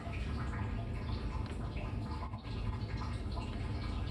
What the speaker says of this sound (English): and water starts flowing. So as the tank fills up down here with the water